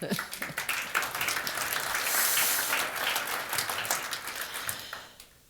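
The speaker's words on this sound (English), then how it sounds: "another, I think, round of applause" An audience at a low-carbon industry summit applauds, a dense wash of many hands that swells in the middle and tapers off at the end.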